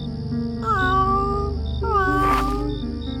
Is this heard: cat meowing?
yes